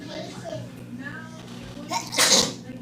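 A sharp, loud sneeze bursts out near the end after some quiet background murmuring.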